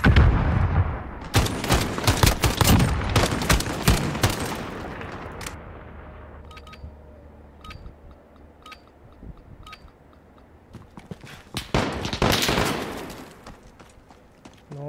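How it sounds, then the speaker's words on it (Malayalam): Gunfire in the Call of Duty Modern Warfare multiplayer video game: rapid, loud bursts of automatic shots crowd the first several seconds, then sparse, fainter single shots follow before another close, heavy burst of fire. "ഓ എന്നെ സൈഡ് ചെയ്ത് വെടി വെച്ചടാ"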